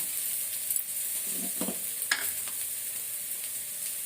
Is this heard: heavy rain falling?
no